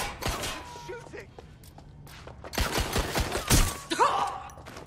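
Sharp bursts of gunfire in the Watch Dogs: Legion video game, several loud close shots clustered near the middle and end, mixed with shouted voices and in-game chatter.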